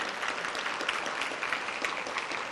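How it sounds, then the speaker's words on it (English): Applause from a breakfast audience at an Alzheimer's Association event, a dense, steady wash of clapping that carries evenly from start to finish with no voices breaking through. "Can we give Dr. Obeseason another round of applause,"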